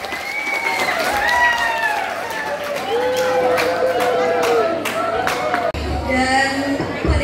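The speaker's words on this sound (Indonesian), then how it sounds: "Mari beri tepuk tangan yang meriah untuk kelima kandidat kita." School audience clapping for five student council candidates at a high school debate, busy applause with crowd chatter and a voice speaking over it, fairly close and steady.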